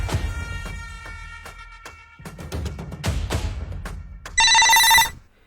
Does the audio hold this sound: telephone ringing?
yes